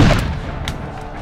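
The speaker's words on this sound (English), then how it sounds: "The British cannon sent the Continental militia scattering, and Wooster himself was wounded." British cannon fire and gunfire from a Revolutionary War battle at Ridgefield, Connecticut, heard as one loud, close boom at the start that rolls into a rumbling decay, with a faint crack partway through.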